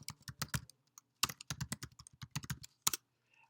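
An email address is typed on a computer keyboard in quick, irregular bursts of close, crisp key clicks, with short pauses and no voices.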